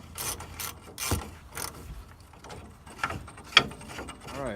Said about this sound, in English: Now he's tightening up the U-bolts.